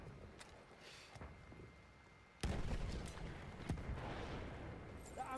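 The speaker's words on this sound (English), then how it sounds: "Explosion!" A sudden explosion in a video game, a sharp loud burst that jumps out of quieter background noise, followed by a rumbling tail with a few further cracks.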